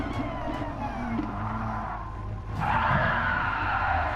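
Race cars in a Fuji circuit sim race make contact and one spins, engines droning steadily before a louder burst of engine and tyre noise near the end.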